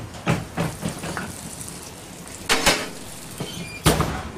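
Peaches and rhubarb going into an oven bring a few clattering knocks and a door-like thud, spaced out and moderately close, over a soft, steady background hiss with no talk.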